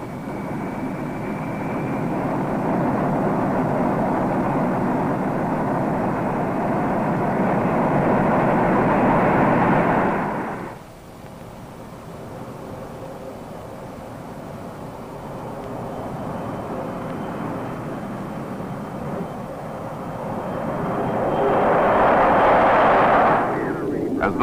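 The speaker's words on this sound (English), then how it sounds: "As the bomber climbs out" A B-52 bomber carrying the X-15 rocket plane rolls and takes off, a loud broad jet roar swelling for about ten seconds, cutting abruptly to a quieter hum, then rising again near the end.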